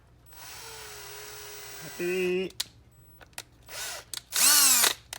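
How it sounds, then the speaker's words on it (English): A power drill runs during work on an antique Hurd heavy-weight padlock, whirring steadily at first, then rising in short bursts with sharp taps and clicks between, close and loud. "I need a drill, don't I?"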